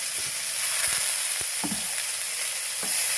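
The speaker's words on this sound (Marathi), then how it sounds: "लसूण जरा भाजली की बारीक चिरलेला कांदा टाकायचा." Finely chopped onion frying with garlic in a pan over low gas, a steady close sizzle with a few soft stirring scrapes, no voices.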